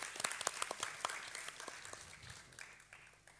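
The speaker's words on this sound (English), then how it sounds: "Big round of applause." Audience applause at an academic lecture at Rangsit University on Iran after the 1979 Islamic Revolution, a dense crowd clapping steadily for a few seconds before gradually thinning and fading.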